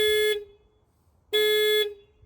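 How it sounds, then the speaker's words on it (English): A 2018 Hyundai Elantra car alarm sounds two loud, harsh honking blasts with a pause of about a second between them. Nobody speaks. "I don't know why the alarm is so terrible."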